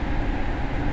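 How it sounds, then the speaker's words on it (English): A train in a video game set on a subway platform slowing toward a stop, a steady low rumble and rolling hum filling the whole second with no talk over it. "The train's coming to a stop."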